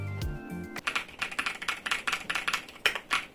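Clicky keystrokes on an EpoMaker Shadow X budget mechanical keyboard fitted with speed silver switches, a rapid uneven run of about a dozen close, crisp taps following a brief low thump, with no talk.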